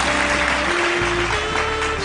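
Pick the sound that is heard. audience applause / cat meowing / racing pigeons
audience applause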